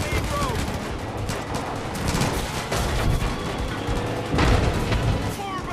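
Far Cry 5 gameplay full of heavy gunfire, with dense automatic bursts and booming shots running continuously and loud, and a player's voice talking underneath at times.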